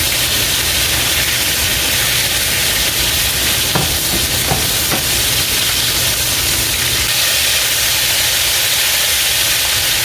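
Chicken livers fry in batches in an uncrowded pan, giving a steady loud sizzle throughout with a few sharp pops and crackles standing out near the middle.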